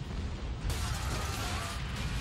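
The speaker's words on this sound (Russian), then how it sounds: "Безо всякого предупреждения мощный взрыв сотрясает завод." A powerful explosion at an oil plant, heard as a sudden loud boom that breaks in and is followed by a sustained roaring rumble.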